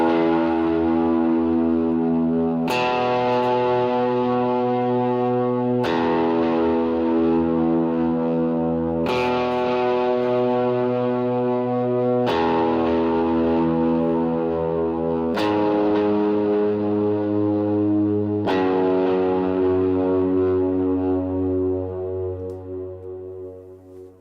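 Overdriven electric guitar with delay and reverb sustaining whole-note root notes of the chords in a worship song, each chord change a fresh loud attack ringing into the next, played alone.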